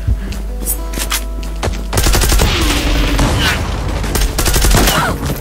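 Gunfire from a weapon in the online shooter Zula: a quieter stretch of game sound, then loud, rapid bursts of automatic fire rattling close by, with a brief voice underneath.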